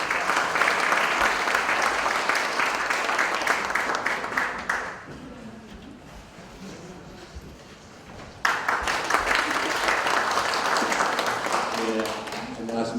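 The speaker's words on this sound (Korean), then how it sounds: "뜨거운 박수 부탁드리겠습니다" Audience applause at a talk concert in Jung-gu, Seoul, rises as a dense, loud burst of clapping, fades to a quieter lull under a voice, then swells again strongly.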